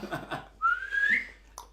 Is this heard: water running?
no